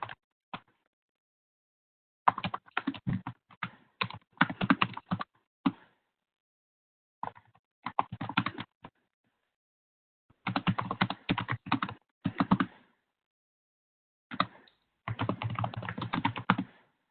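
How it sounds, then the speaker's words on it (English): Bursts of clicky typing on a computer keyboard, close and crisp, separated by silent pauses of a few seconds, heard during an online webinar call. "Somebody is typing in the meantime."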